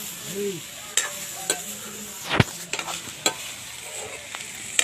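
A fully vegetarian curry of potato, eggplant, taro and soy chunks cooks in a pan, with a soft sizzle broken by sharp spatula clanks and scrapes at irregular intervals.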